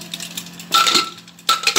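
A metal lid is set onto a pressure cooker with two sharp metallic clanks and rattles, close and loud, separated by a brief quieter pause.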